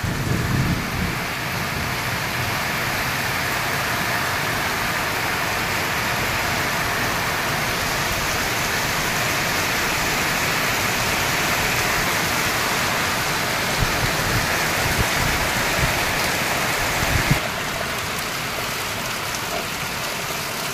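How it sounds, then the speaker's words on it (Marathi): Heavy monsoon downpour in Chandwad with runoff water streaming past the front of a house, a loud dense continuous roar of rain and flowing water, with occasional low rumbles and no voices. "घरासमोरून खूप छान पद्धतीने असं पाणी वाहत आहे।"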